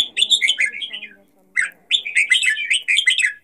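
A bulbul sings loud, clear chirping phrases close by, two bursts of quick tweets separated by a short pause.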